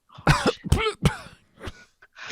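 A person coughs several times in quick bursts, then sputters and gasps, with short wet, raspy breaths trailing off.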